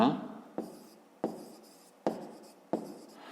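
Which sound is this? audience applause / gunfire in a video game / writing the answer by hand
writing the answer by hand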